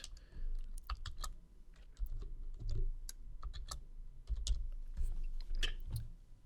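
Someone types a password on a computer keyboard with quick, light, irregular key clicks at close range over a soft low background hum, and no one speaks.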